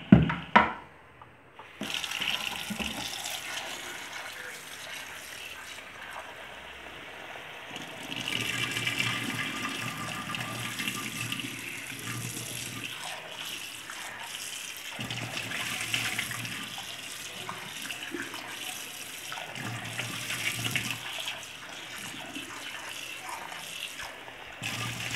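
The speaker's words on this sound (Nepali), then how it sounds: "अब यसलाई हामी चिसो पानीमा मजाले एकचोटी पखाल्छौं" Pork belly rinsed in cold water for Newari chhoyala: a steady running, splashing rush of water from start to finish, close and fairly soft, with a brief clatter at the start and no voices.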